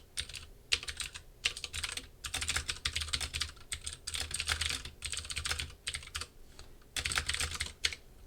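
Rapid typing on a computer keyboard while writing code during a computer science lecture, a steady run of close, crisp key clicks in bursts with brief pauses, no talking.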